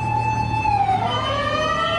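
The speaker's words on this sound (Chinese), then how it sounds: "就在10:30，警报器炸响的这一刻" An alarm siren blares loudly and close, a continuous wailing tone that slides down in pitch, with no voices over it.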